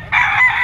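A gamefowl at a game farm crows once in a short, loud, close burst.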